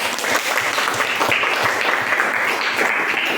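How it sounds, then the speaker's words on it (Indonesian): Schoolchildren in a classroom applauding together, a dense continuous patter of many small hands clapping with faint talk underneath. "Tepuk tangan dulu anak-anak ya"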